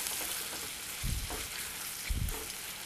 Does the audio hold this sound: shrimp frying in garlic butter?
yes